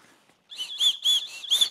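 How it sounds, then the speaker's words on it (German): Small safety whistle from a Camelbak Apex Pro running vest blown in four or five short, shrill chirping blasts, close and fairly loud after a brief silence. "Dann haben wir noch eine Pfeife hierbei,"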